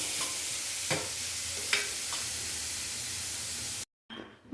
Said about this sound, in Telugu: ఆనియన్స్ కూడా బాగా ఫ్రై అనిద్దాం